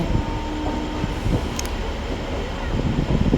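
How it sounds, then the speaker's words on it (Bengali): A train pulls into a station near the sea resort of Digha, a steady low rumble and rolling rail noise with a brief high squeal midway, and faint voices underneath. "দেখো এবার আমাদের ট্রেন চলেই এসেছে, ট্রেনটা ঢুকছে"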